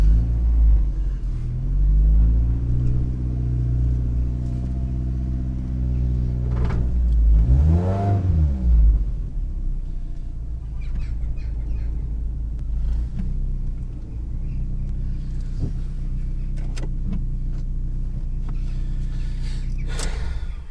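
A car rumbles steadily while driving onto a home driveway, with a few rising revs and one strong rev near the middle, heard close and loud throughout with no talk.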